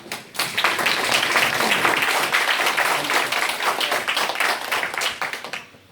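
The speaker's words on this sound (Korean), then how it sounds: "오늘 아주 그 힘드신 가운데도 와주신 우리 김종국 전 단장님에게 박수로 청해드립니다." Listeners at a folklore lecture applaud to welcome the visiting lecturer. After a brief quiet start, dense clapping rises quickly and holds steady, then tapers off toward the end.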